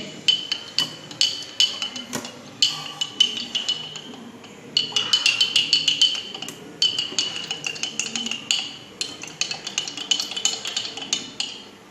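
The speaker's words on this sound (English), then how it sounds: "I am adding the salt and mix well." A spoon stirs salt into water in a glass jar, with rapid, bright clinks of metal against glass in steady bursts, close and loud, and a short pause near the middle.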